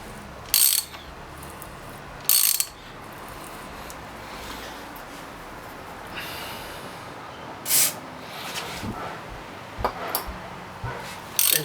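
A bolt being threaded in by hand while a Highway Dirt Bikes hand guard is installed on a Yamaha WR250R: a few sharp, close metallic ratcheting clicks spaced several seconds apart over quiet workshop background.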